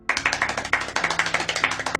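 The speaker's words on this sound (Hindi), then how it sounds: "तालियां।" Brief crisp hand clapping, a quick, fairly even run of about a dozen sharp claps within two seconds, close and clear with no voices.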